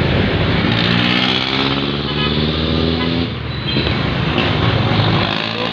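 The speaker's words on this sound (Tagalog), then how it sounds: "Super traffic, bumper to bumper." Dense bumper-to-bumper traffic fills Aguinaldo Highway in Cavite during a typhoon: a loud, steady wash of engines with horn toots, trucks and motorcycles, and wind or rain noise mixed in.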